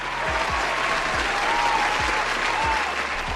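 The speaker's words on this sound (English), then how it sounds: "Give him a round of applause, please." Steady, dense applause from a live-show audience fills the whole stretch at an even level, with low rhythmic thumps underneath and no voices standing out.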